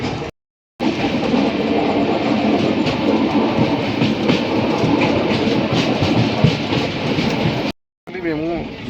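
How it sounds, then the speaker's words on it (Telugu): A passenger train runs on rails with a loud, continuous rumble and rhythmic clickety-clack of wheels over joints, heard close for several seconds between brief cuts, with a voice faintly audible near the end. "ఒక ట్రైన్ ఇప్పుడే పాస్ అయింది"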